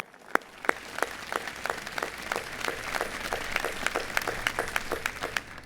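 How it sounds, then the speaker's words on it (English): Scattered audience applause at an outdoor university groundbreaking ceremony, heard as distinct individual claps with moderate, fairly even density throughout, somewhat distant and not very loud. "A round of applause"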